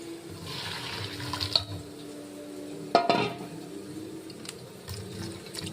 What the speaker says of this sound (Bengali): একটু কলটা ছেড়ে দিলাম।